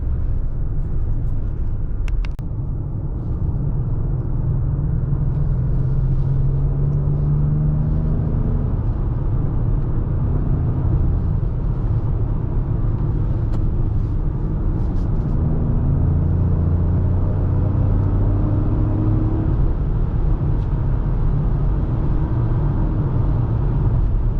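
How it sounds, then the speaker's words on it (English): Inside a Ford Explorer ST-Line SUV on country roads, a steady low engine and road rumble with tire noise continues unbroken and fairly loud, with faint shifts in pitch as the vehicle moves. "I love driving in these country roads."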